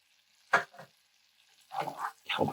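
Blackened shrimp and andouille jambalaya with green onions and parsley is stirred in a pan. A few short, close scraping sizzle bursts are separated by quiet gaps, and the later bursts are longer.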